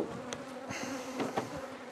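Honeybees buzz steadily and close by at an open beehive, a dense continuous drone with a few soft knocks and clicks over it and no voices.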